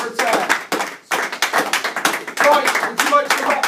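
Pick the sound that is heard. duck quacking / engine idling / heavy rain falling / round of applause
round of applause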